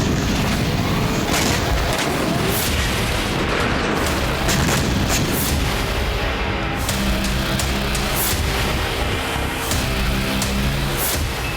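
Israeli airstrikes in Lebanon set off a dense run of loud blasts and booming bursts, one after another over a constant roaring rumble, with no voices.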